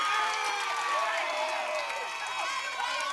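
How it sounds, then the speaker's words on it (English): Crowd cheering and shouting at a high school softball championship game between Campolindo and an opponent, a sustained, dense roar of voices with a few higher whoops rising over it, steady and fairly loud throughout. "As the Campo crowd gets pumped up"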